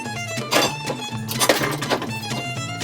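Metal hammer blows knock an old garden tool handle loose, several hard sharp bangs at irregular intervals, loud and close in a workshop.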